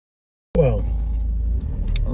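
A loaded car on the road after a carp fishing day at Wissett Lake drives with a steady low engine rumble and road noise, starting abruptly from silence and continuing loud and close.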